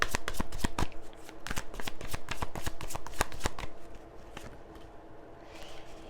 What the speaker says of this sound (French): Je vais juste tirer une autre carte ici.